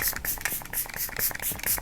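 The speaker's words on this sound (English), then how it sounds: "I'm going to use this today as both like a priming spray as well as on the top of my makeup" Rare Beauty setting spray misting onto a face, a run of short hissing spritzes repeated rapidly and close to the microphone, with no voices.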